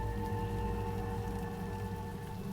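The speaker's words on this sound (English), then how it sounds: "raining, and the wind is blowing." Steady rain falling outdoors on a cloudy, windy day, a continuous dense hiss with a low rumble of wind underneath and a faint constant hum, no voices.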